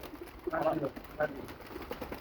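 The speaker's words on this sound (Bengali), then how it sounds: "কবুতরগুলো ছেড়ে দেওয়া হবে" Pigeons at a backyard coop, about to be let out, give a few short throaty coos close by over a quiet, faintly noisy outdoor background.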